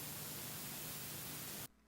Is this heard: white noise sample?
yes